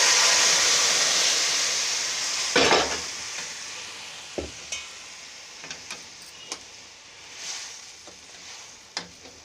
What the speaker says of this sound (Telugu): ఇప్పుడు మనం తిరగమూత వేస్తున్నాం అంటాం కదా, అలాగే ఇందులో పులుసు తిరగమూత వేసుకోవాలన్నమాట